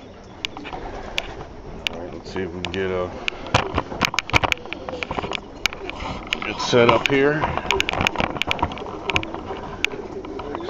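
Pigeons coo and flutter outdoors as they leave a building, with a soft, continuous murmur of calls and scattered clicks and knocks. Someone talks over them nearby.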